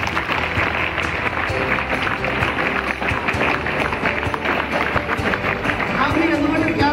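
Audience clapping at a personality development lecture, a steady dense patter of many hands sustained throughout, loud and close, with some voices mixed in.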